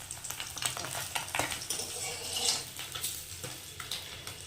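Fish frying in a pan at home, a loud crackling sizzle with bursts of spattering and scraping, continuous and close with no speech over it.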